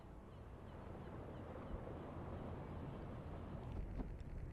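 Submarine engine in the World War II game UBOAT running at half ahead, a low, steady rumbling drone with washing, noise-like texture, continuous and fairly quiet with no voices.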